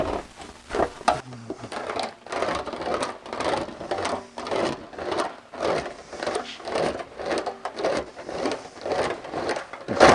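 Sheet metal for a Porsche 550 nose section is rolled back and forth through an English wheel, giving a steady rhythmic rumbling swish of repeated passes, close and moderately loud.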